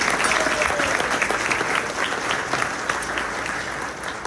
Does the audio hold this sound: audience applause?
yes